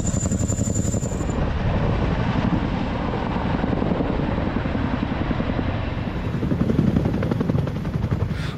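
A Boeing CH-47 Chinook tandem-rotor military helicopter roars steadily and loudly throughout, its rotor chop forming a dense, continuous rumble with no voices.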